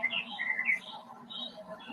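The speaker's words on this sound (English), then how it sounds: "you literally hear birds chirping" Birds chirp softly in the background, a string of quick high tweets drifting in and out over a faint hum.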